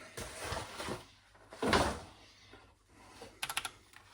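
Keys on a new MEGA65 computer keyboard are pressed during an unboxing, a few separate clacks and a louder thump, then a quick burst of crisp taps near the end.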